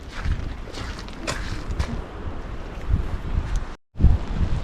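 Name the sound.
strong wind on a Tasmanian cliff coast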